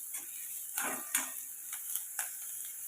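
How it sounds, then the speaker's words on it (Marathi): Onion frying with a pinch of salt in a pan: a soft, steady sizzle runs throughout, broken by several light scrapes and clinks of a spatula against the pan, fairly quiet and close. "कांदा आपण आता पूर्ण लालसर करून घेऊया"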